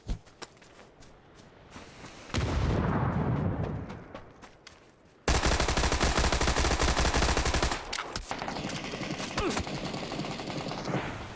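Loud bursts of rapid automatic gunfire in PUBG on the Erangel map, sustained volleys with a brief lull between them and a steady rattling roar throughout.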